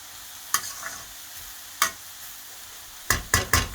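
Broccolini sautéing in a pan for a rice salad, quiet stretches punctuated by sharp scraping stirs, a few isolated strokes then a quick run of four close strokes at the end.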